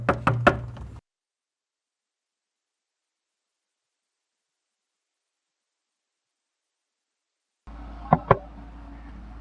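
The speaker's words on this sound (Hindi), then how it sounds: "तो जाओ एक बार दरवाजा खटखटा कर पूछ लो।" Knocks on a door, a quick cluster at the start and two sharp raps after a long silence, close and loud with no talk.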